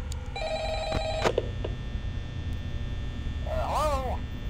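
Telephone rings in the video game Five Nights at Freddy's: a short electronic ring near the start, then a warbling ringtone burst toward the end, over a steady low hum.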